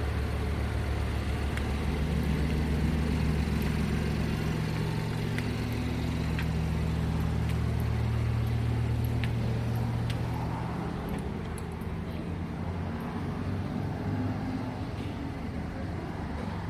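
A car engine hums steadily from inside the vehicle on a test drive, a continuous low drone with road noise and a few faint clicks, no speech.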